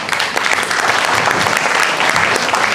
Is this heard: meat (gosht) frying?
no